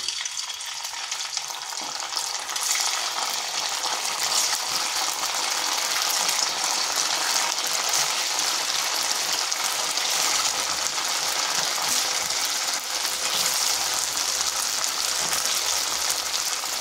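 Homemade paneer, made from papaya without milk, frying in oil in a wok makes a loud, dense and continuous sizzling hiss close up, with no talking.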